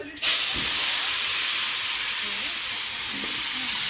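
Small keorali fish drop into hot oil and set off a sudden loud, broad sizzle that stays strong and steady throughout, with faint speech underneath.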